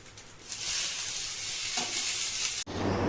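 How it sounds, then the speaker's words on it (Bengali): Potatoes and vegetables frying in a pan while being stirred, with a steady close sizzle and scraping stir strokes that build, pause briefly, then resume loudly. "এটার মধ্যে এখন বাকি যে সবজিগুলো আছে ওগুলো একটু দিয়ে নেড়ে নেব"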